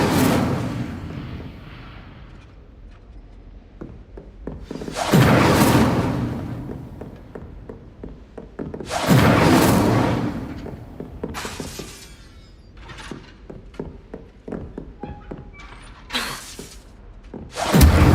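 Incendio fire spell cast in the Hogwarts Legacy video game: repeated loud whooshing bursts of flame with crackling, shattering debris and creaking, several strong blasts spread across the stretch with scattered smaller snaps between.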